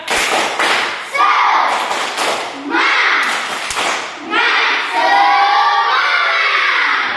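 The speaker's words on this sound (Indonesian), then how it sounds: "Dan kita tepuk semangat dulu ya" A classroom of children does a rhythmic spirit clap with shouts and cheers, loud and close, the claps and thuds landing in quick bursts across the room amid children's voices.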